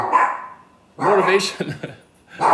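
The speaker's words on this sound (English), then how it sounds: "my dogs are barking" Dogs bark in a few short bursts, close and fairly loud, with a gap between volleys and a final bark at the end.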